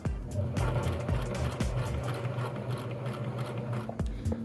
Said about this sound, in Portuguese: Eu simplesmente vou costurar.